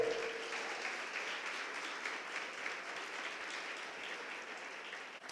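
A church congregation applauds together in a sustained, steady wave of clapping that fills the room at an even level, without talk, after the preacher invites them to applaud the Lord.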